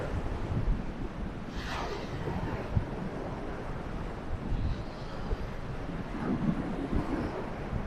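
Strong wind gusts across an open stretch of Lady's Mile Beach near Limassol, Cyprus, a steady roaring rush with buffeting on the microphone and a faint engine-like drone in the background.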